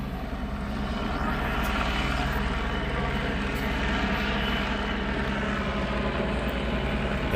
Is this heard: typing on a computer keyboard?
no